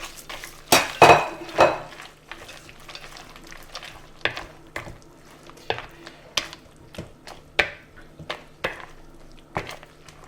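Spoon stirring and clinking in a bowl while leeks, salmon terrine mixture and roasted hazelnuts are combined, giving irregular scrapes and sharp knocks against the dish, close and clear with no talking.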